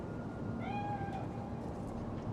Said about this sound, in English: Chill, just a cat.